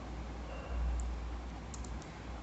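Typing on a computer keyboard while entering a search term: a few soft, quick key clicks over a low hum of background noise, faint and close, with no speech.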